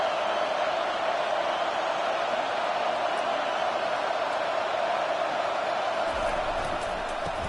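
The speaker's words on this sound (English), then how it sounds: "This crowd bringing the energy and noise early." Steady roar of a large stadium crowd at a Michigan game, loud and continuous throughout, a dense wash of many voices with no single speaker standing out.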